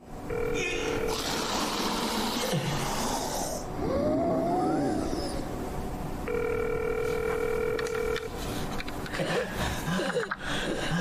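A telephone call tone sounds in a dramatic scene, steady electronic tones recurring in two spans amid louder background sound effects and voices; no speech is clearly heard.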